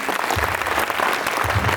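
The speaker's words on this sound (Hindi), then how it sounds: "एक बार ताली बजा दीजिए" Loud, dense applause from an audience at a school felicitation ceremony honouring toppers, steady clapping filling the room for a short stretch with no talking over it.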